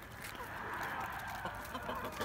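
Chickens and roosters in a coop with a grain feed mix of wheat and barley, faint clucking and low murmuring calls from the flock under a steady background hiss, fairly distant and quiet.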